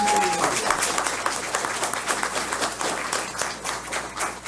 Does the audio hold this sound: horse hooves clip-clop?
no